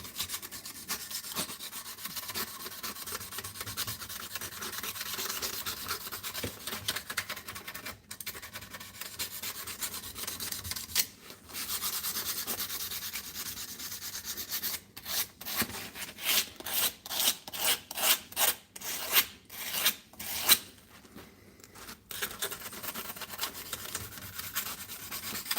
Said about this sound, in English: this stuff is great for smoothing out the metal. So work it back and forth on the edge.